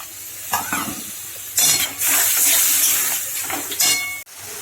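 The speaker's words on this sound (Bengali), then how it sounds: "একটু জল দিয়ে দেব।" Water is poured into a hot pan of spiced chicken ghugni masala, giving short bursts of loud sizzling and hissing, with a longer steady sizzle in the middle and faint stirring and pan clatter.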